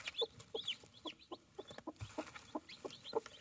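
A mother hen clucks softly and repeatedly in a chicken coop, with short uneven clucks and faint chick-like peeps close by.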